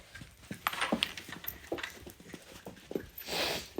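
An excited Australian Shepherd moves about close by, panting, snorting and scrabbling its paws in quick irregular bursts that rise and fall in loudness with no steady rhythm.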